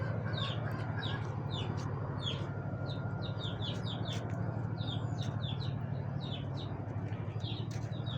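Several roosters crow and cluck repeatedly at dawn in a rural outdoor setting, bright calls recurring throughout over a steady low background hum, with no talking.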